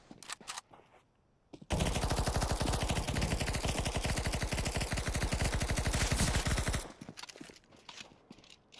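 Sustained rapid automatic fire from a PP-Bizon submachine gun in the game CS:GO, a loud steady burst of roughly five seconds with quieter game sounds before and after.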